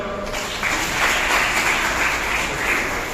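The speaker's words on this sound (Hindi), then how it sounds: "सब अपने लिए ताली बजाओ" Students and audience at a school event applaud themselves, a dense, even wash of many hands clapping at moderate volume, steady for a few seconds.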